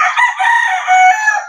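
A fighting rooster crows once, loud and close, a long strained call that wavers before trailing off.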